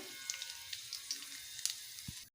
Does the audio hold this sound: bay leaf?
yes